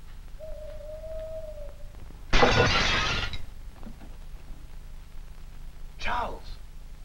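A pane of glass shatters in one sudden loud crash that rings on for about a second, with a faint later scrape or rattle, in a quiet indoor room from a 1940s film.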